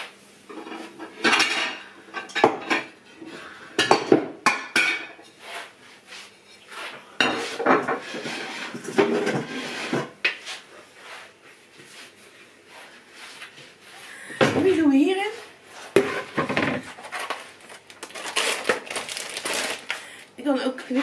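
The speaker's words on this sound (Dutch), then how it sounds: "Ik ga even lekker snijden als eerste, want dat heb ik wel even nodig." An onion is sliced on a board in a home kitchen, knife taps landing in uneven bursts along with clinks of utensils and dishes and a few louder knocks.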